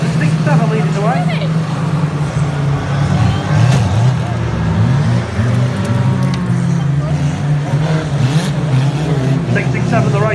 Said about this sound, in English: it's in fact Cody there goes a bit wide. And we've got a new leader, he's car number 6-7 leading the way.